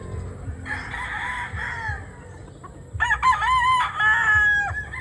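Several roosters crow one after another at a game farm in San Enrique, some close and loud, over a background of clucking chickens.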